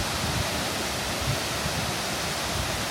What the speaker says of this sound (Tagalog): nasa likod natin yung magandang talon.